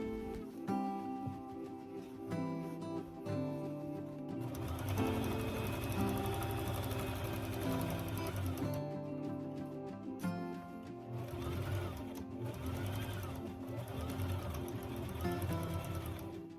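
Sewing machine stitching a seam on a satin pillowcase: steady, loud motor whir with rapid needle chatter running continuously, slowing briefly around the middle before resuming, with no talking.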